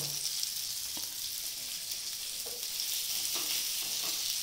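Seer fish frying on a tawa gives a steady, close hiss of sizzling oil throughout, with a few soft scrapes or turning sounds and no voices.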